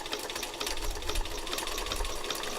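Sewing machine running steadily while stitching around a gentle curved outline, a fast continuous whirring rattle at close range with no pauses.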